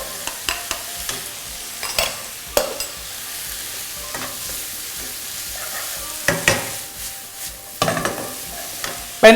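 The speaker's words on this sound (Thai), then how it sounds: "เสร็จเรียบร้อยสำหรับการผัด กะเพรา เจ" Vegetarian holy basil stir-fried with fried tofu in a pan, with steady sizzling and frequent sharp spatula scrapes and clacks against the pan, close and fairly loud throughout.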